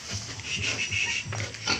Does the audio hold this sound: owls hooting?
no